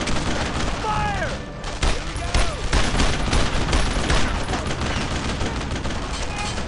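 Heavy gunfire from the Brothers in Arms video game, a loud dense fusillade of rapid rifle and machine-gun bursts with distant booms, continuous under shouted voices.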